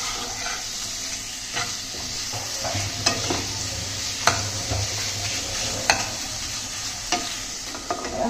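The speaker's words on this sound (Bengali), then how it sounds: "এখন দিয়ে দেবো মাংস।" Meat added to fried spice paste of ground dried chili, salt and turmeric, sizzling with a constant loud hiss close by while a spoon stirs and taps against the pan at irregular intervals.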